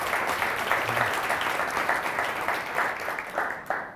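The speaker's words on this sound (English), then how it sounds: "So a round of applause for all those." Steady applause from a crowd, dense clapping sustained throughout with no voices standing out.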